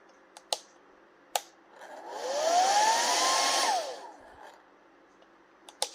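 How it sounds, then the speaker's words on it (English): A 1900 watt hairdryer running on cool from a Fisker Ocean car's power outlet gives a rising whoosh that holds for about two seconds and then fades, with sharp clicks before and after it. "Alright, it's really struggling with the hairdryer."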